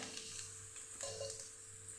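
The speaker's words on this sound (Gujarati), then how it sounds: "તેલ ગરમ થઈ ગયું છે તો અડધી ચમચી જેટલી રાઈ ઉમેરશું ને રાઈને સરસ ફૂટવા દઈશું" Steady sizzling and crackling of mustard seeds frying and popping in hot oil, close and continuous, with faint stirring throughout.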